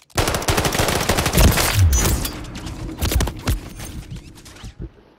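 Video game gunfire from a shooter on a helipad, loud bursts of rapid automatic shots and sharp cracks, thinning toward the end before cutting to silence.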